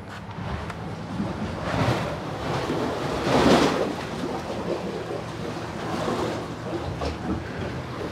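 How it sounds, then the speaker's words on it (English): Gentle water laps and washes beneath an overwater villa in the Maldives, a soft continuous surf-like hiss with mild swells and some wind noise on the microphone, fairly quiet and with no talking. "I love hearing the water."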